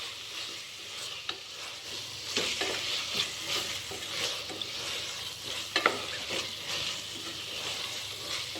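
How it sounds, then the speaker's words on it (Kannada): A spoon scrapes and stirs tomato bath with peas in a frying pan, a soft steady sizzle underneath and irregular scraping strokes up close, with no talking. "ಚೆನ್ನಾಗಿ ಮಿಕ್ಸ್ ಮಾಡ್ಕೊಬೇಕು"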